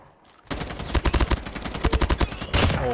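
Rapid automatic gunfire in Call of Duty Mobile battle royale, a quiet half-second then dense bursts of loud close shots in quick rhythmic volleys, ending in a heavier blast-like burst.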